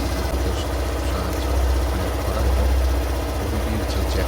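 Steady low engine idle of a BS6 motorcycle with an evaporation system fault, a throbbing rumble, constant and close, no voices.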